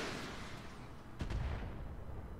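In the tactical shooter game Roguepoint, a single sharp burst of gunfire cracks out midway through, heavy and booming against a low rumbling background.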